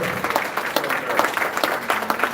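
Audience clapping at an awards ceremony in Jamaica honoring outstanding guidance counselors, steady clustered claps filling the room at moderate loudness.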